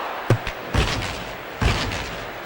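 A hockey shot in the NHL FaceOff 2003 video game lands as a sharp crack, followed by a couple of duller thumps, punchy and close over a constant crowd-like wash.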